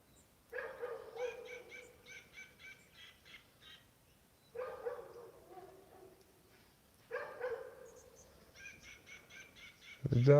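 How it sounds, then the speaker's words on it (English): A dog barks in repeated bursts outdoors early in the day while birds call and squawk between and over the barking, ending with a loud close thump. "The dog usually will quiet down after a little while."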